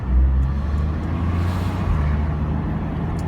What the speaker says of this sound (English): Cars actually turning around and driving up the wrong way of the highway, basically.